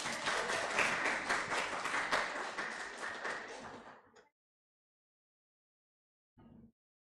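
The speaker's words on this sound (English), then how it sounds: "please give a huge round of applause, our Madam Rector, Dr. Retno Agustina Eka Putri" An audience at a university English club grand opening and talk show applauds the rector with a sustained burst of clapping, which fades out and then stops, followed by a brief faint sound after a pause.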